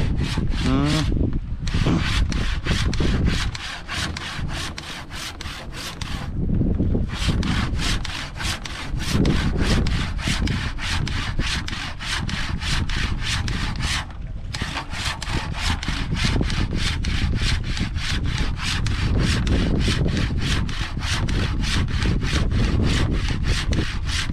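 A small hand saw rasps through wood during boat building, in rapid, steady back-and-forth strokes, loud and close, with a couple of short pauses and faint voices.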